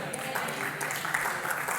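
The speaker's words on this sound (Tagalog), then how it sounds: "O, dagdagan pa natin yung palakpak na yan." Steady applause from a church congregation, a dense wash of clapping lasting throughout, moderately close and even in level with a voice faintly underneath.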